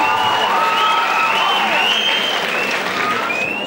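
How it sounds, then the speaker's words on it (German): Sustained audience applause at a 1997 talent show, dense and steady throughout, with some whistles and cheers rising above the clapping and faint voices mixed in. "einen grossen Applaus für die zwei"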